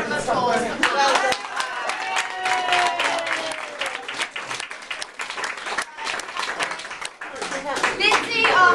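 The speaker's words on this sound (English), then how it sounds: "So I think a big round of applause for Pam." A studio audience on a daytime talk show gives a loud round of applause for a dog agility troupe, dense clapping with cheers and chatter mixed in, dipping briefly near the end before swelling again.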